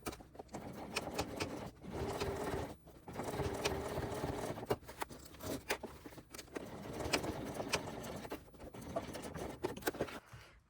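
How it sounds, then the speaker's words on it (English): Sewing machine stitching along the second side of a zipper on a crossbody bag and wristlet, a close rapid mechanical chatter running in several bursts separated by brief pauses. The machine is an OKSew. "And then we're going to sew along this other side of the zipper."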